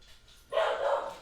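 A dog gives a single short, close bark indoors, loud and sharp against a quiet room.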